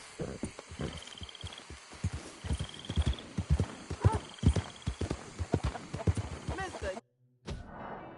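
Horse hooves clip-clop in a steady walking rhythm in a PS4 video game, close and clear, with faint voices and a brief whinny-like sound, ending with a short cut.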